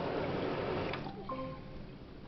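A kitchen sink's waterfall faucet pours water in a steady splashing stream, fairly close, easing slightly toward the end with a few gurgling tones.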